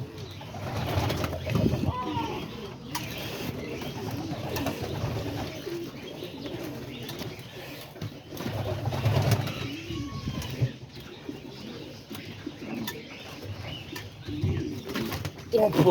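Pigeons coo in a pen, soft repeated low cooing in overlapping bursts, with faint chirps, occasional wing flutters and background murmur of people talking.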